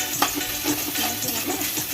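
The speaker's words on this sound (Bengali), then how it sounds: "আদা রসুনটা পেস্টটা দেওয়ার পর কিছুক্ষণ ভেজে নেবেন" Ginger-garlic paste frying in hot oil in a pan, a steady bright sizzle with soft stirring scrapes repeating throughout, close and continuous with no talking.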